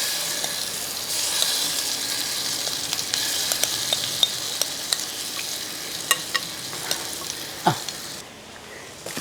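Fish masala paste frying in hot oil with curry leaves makes a steady sizzle dotted with sharp pops and spoon clicks, close up, easing off slightly near the end.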